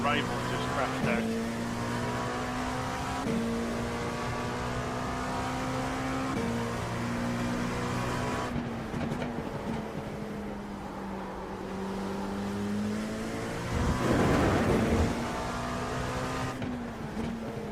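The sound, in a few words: race car engine in racing simulator video game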